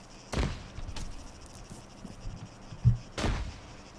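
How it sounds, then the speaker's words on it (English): Gunshots crack out in the video game Arma 3 during a battle royale match. Several sharp reports come at irregular intervals, some closer and louder and others more distant, with no talk over them. "I got gunfire all around me."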